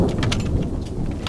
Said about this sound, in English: that was some like lame thunder and lightning right there